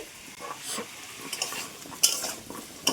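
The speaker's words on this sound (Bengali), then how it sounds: "এখন আলুগুলো নেড়ে চেড়ে লালচে কালার করে ভেজে নেব" Potatoes sizzle and crackle in hot oil while a utensil stirs and scrapes through them in uneven strokes, close up, with no talking.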